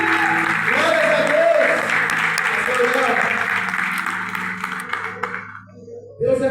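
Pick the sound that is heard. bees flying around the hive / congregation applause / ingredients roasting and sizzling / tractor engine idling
congregation applause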